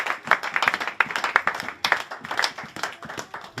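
A congregation at a French-language church service claps steadily together, a dense run of hand claps with pulsing rhythmic accents throughout.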